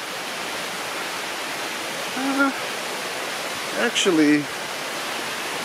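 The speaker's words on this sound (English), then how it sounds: "Oh, there's a waterfall." A small waterfall in the Caucasus gives a steady, even rush of falling water throughout, with a person speaking briefly over it.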